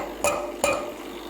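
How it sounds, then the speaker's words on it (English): Steamed milk jug from a Breville Barista Express BES870 tapped down on a counter twice, two sharp metallic knocks about 0.4 seconds apart, close and clear with no talk. "I'm going to tap it down to knock all the bubbles."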